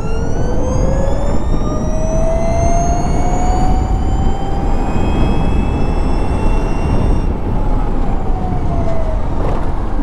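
An Ather 450X electric scooter rides along a road, its steady electric motor whine climbing in pitch as it speeds up. Constant road and wind rush runs beneath it for the whole stretch, with no one talking.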